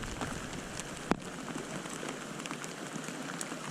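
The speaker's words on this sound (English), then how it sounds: "I'm already soaked weather, so I really don't give two craps how heavy this rain comes down." Steady rain falls outdoors on a panfish fishing trip, a soft, even hiss of drops throughout with one sharp tap about a third of the way in.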